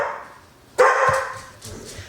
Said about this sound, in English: my outside dog's barking now, so it must be someone